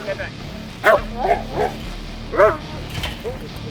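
A police K9 barks and yelps during a deputies' arrest in Nye County, Nevada, with several sharp barks spaced irregularly over shouted commands from officers.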